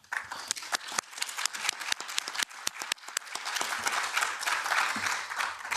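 Close, dense applause from an audience at a science and technology panel workshop, crisp individual claps building into steady clapping that carries on to the end.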